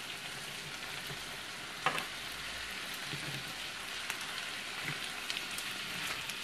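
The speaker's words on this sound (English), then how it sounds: "So now I'm gonna throw in my peppers and onions and cook off the raw taste." Peppers and onions fry in a hot pan with a dense, steady sizzle, crackling like rain, punctuated by a few sharper pops and spits; no one speaks.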